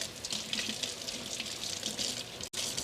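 Tap water runs steadily into a sink while a couple of green onions are rinsed under it, a continuous close splashing hiss with a brief break near the end.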